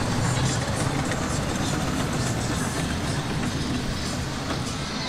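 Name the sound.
metro train passing at Legoland Dubai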